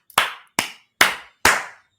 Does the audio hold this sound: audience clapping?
yes